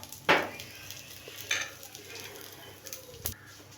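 Onions and masala frying for kebabs, a quiet, steady sizzle broken by a few sharp clinks and scrapes of stirring, close by with no talk.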